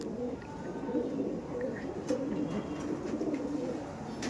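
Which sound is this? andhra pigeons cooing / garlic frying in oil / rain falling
andhra pigeons cooing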